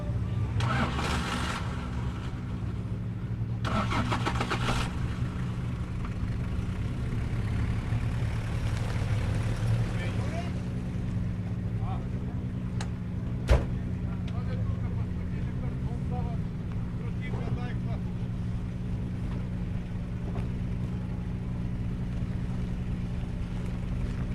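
Autocross race cars in the 3.5 class idle at the start line, a continuous engine drone with revving swells and a sharp bang midway, under commentary.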